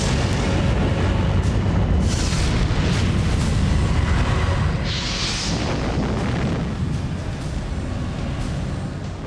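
The atom bomb blast over Hiroshima, a sustained deep rumbling roar with booming low end and a few rushing surges, loud and unbroken throughout, slowly easing toward the end.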